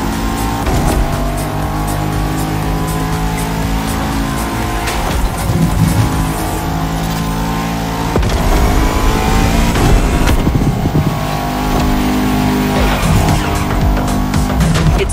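Two Bugatti cars race in The Crew Motorfest, with loud, sustained engine roar, revving surges and tire squeals and skids running continuously up close throughout.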